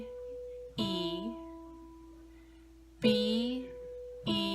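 Keyboard playing the second line of a beginner lesson piece, with three separate groups of sustained tones starting at roughly one, three and four seconds, close and clear. No one talks.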